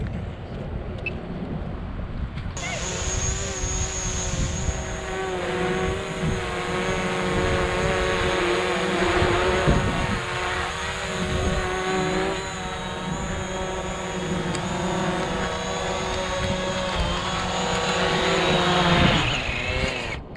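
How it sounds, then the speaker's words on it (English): A DJI Mavic Pro drone flies over San Diego Bay, giving a steady high whine with layered tonal hum and a rushing wind noise, loud and close for about twenty seconds, with no talking. "So that was a lot of fun flying this drone across San Diego Bay."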